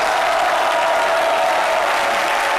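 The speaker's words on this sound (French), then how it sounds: "merci maintenant d'applaudir la vraie" A TV studio audience gives a dense, steady burst of applause, loud and continuous for a few seconds with a faint crowd murmur.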